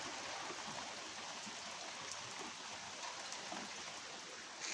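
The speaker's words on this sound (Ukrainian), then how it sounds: "Пішов дощ." Steady rain falls outdoors, a dense, even hiss of drops that holds without a break for a few seconds, soft and fairly distant, with no voices.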